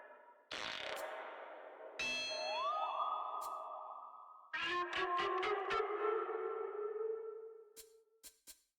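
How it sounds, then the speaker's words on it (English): Elk call effect from the baseball video game Super Mega Baseball 4: a series of loud, echoing synthetic bugling calls, long sliding tones with ringing pings and a few sharp clicking bursts at the end, heard alone without voices. "Here's that elk call that drove you all crazy."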